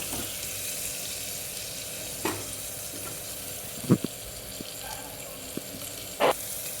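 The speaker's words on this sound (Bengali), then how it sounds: "এবার এটাকে একটুখানি ভালোভাবে নাড়িয়ে নেব, একটু ভাজা ভাজা করে নেব।" Broken wheat seasoned with salt and turmeric fries in a pan. A constant low sizzle runs under a few sharp spoon scrapes and knocks, each one isolated, and no one speaks.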